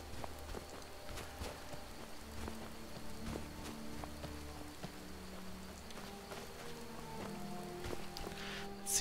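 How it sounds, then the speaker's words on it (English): Steady rain falls in Skyrim, a soft, even patter across the whole stretch, with faint running footsteps and low ambient tones beneath it. "it's raining"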